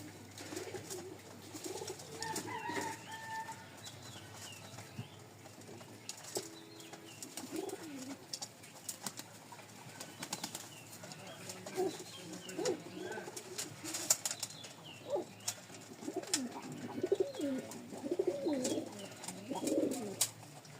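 Caged pigeons brooding on eggs, including a yellow cock, cooing in low rounded bursts that swell and fade over a quiet hiss, fairly near but soft, with scattered small chirps and light rustling between calls.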